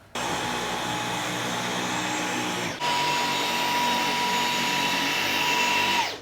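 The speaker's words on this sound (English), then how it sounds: "I'm going to be testing the H6 with the Dyson V11 on the lowest mode" A Dyson V11 cordless vacuum cleaner runs on its lowest mode over carpet, giving a steady, close whine with a brief dip in power near the middle before it resumes and then cuts off at the end.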